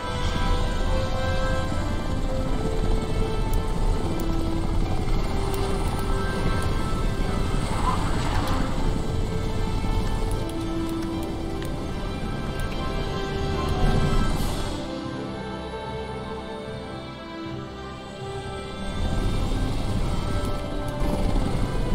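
A helicopter in the shooter game Crysis on a multiplayer map, a loud continuous rotor drone with buzzing engine tone under epic background music, dipping briefly in the middle before resuming.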